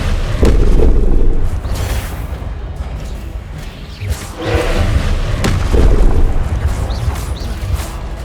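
The Confringo blasting spell in Hogwarts Legacy sets off a series of heavy booming explosions, several loud thuds and bursts rolling one after another with rumbling tails.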